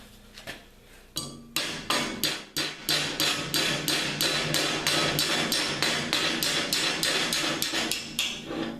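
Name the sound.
tapping with a small hammer on metal in vise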